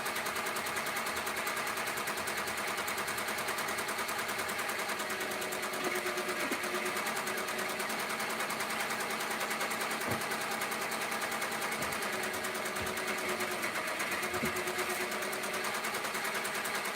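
Two embroidery machines fitted with mighty hoops run steadily together, a continuous fast mechanical stitching whir with faint periodic clicks throughout, fairly close and without talk.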